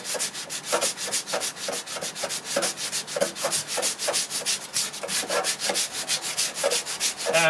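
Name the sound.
sanding primed MDF door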